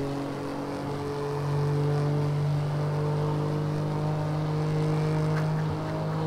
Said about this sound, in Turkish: Araba belli bir devirden sonra haşırtıya geçiyor sesi böyle.